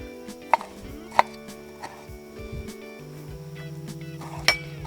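A knife chops grilled, charred peppers on a cutting board, with a few sharp clinking strikes over a steady background hum and faint kitchen noise.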